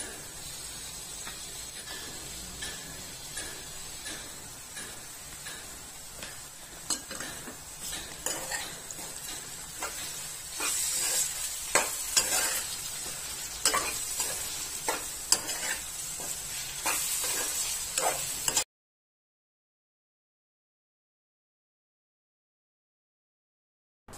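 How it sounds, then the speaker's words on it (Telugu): Bitter gourd slices fry in a pan with turmeric, ginger garlic paste and salt as a spoon stirs them, giving soft sizzling under repeated scraping and clinking strokes against the pan, fairly quiet, before the sound cuts to silence. "ఇలా ఒక 5 నిమిషాల పాటు వేయించిన తర్వాత పసుపు, అల్లం వెల్లుల్లి పేస్ట్, రుచికి సరిపడా ఉప్పు వేసుకొని కలుపుకోవాలి"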